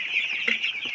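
Week-old chicks cheeping in a brood, a run of high, thin peeps overlapping close by with one slightly louder call midway, no talking.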